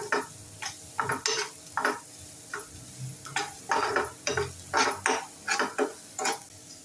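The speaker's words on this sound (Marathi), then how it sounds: "आता आपण मीठ टाकून घेऊया. कांदा छान परतून घेऊया." Onion being sautéed with salt in a pan, with repeated stirring scrapes and clatter over a soft sizzle, close and fairly steady.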